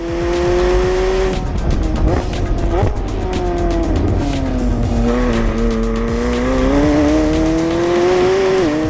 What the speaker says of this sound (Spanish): monta un nuevo escape que emite los gases de forma más directa y genera un sonido diferente